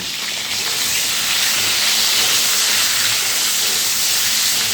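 Pointed gourd (potol) pieces frying in oil with salt and a little turmeric give a steady, loud, broadband sizzling hiss that holds evenly throughout with no talking.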